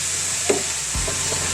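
Sautéed string beans in a pan are stirred, a brief scrape of utensil against metal over a steady, soft sizzle of frying, close and alone.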